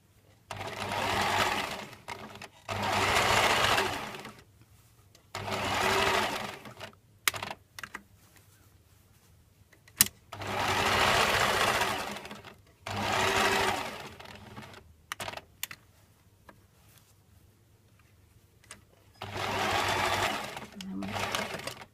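A sewing machine stitches a fabric heart appliqué in several loud, close bursts of rapid whirring, separated by quiet pauses with small clicks and handling noises, ending with a short back stitch.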